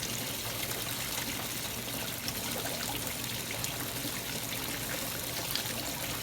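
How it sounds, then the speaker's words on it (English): Water bubbles and trickles steadily through a homemade fluid bed sluice built from a Pepsi bottle, a continuous close, soft gurgling wash with no voices. "Look at how that's bubbling in there."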